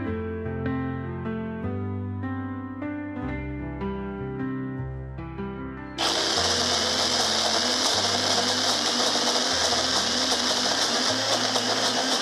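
Background music plays for several seconds, then a mixer grinder starts up loud and close, its steady, harsh whirring roar blending fried onion and spices into a paste until the end.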